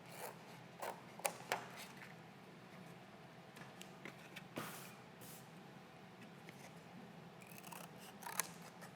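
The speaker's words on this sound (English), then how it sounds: "I'm going to cut each one of them out with my scissors" Scissors snip through paper as little number stamps are cut out one by one, a quiet run of close, irregular crisp cuts with faint rustling and no talking.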